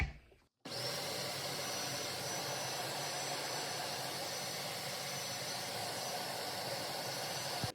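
A blender pureeing homemade cooked pumpkin, starting suddenly after a short pause and then holding a steady, loud, even whir with hiss to the end.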